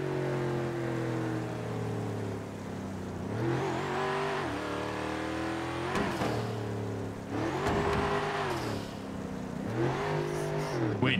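A Porsche GT3 engine eases down to idle in a loud, steady drone that swells with a few revs and dips back again, over open outdoor surroundings.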